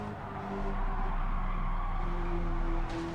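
A race car's engine drones and drops its revs in the video game Gran Turismo 7, steady and fairly loud, with the pitch easing near the end.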